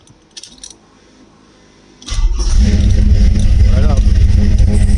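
A 1979 Chevrolet Camaro engine running on a carburetor cranks and fires up, settling into a loud, rumbling idle close by after some light clinks and handling noises.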